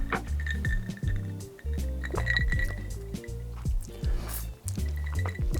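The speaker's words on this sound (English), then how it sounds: "Now let's just give this a little bit of a stir to see how the entire flavor works out." An Irish Sunrise cocktail of whiskey, grenadine and citrus is stirred in a glass, producing repeated clinks and liquid swishes, close and continuous, with a faint hint of voice.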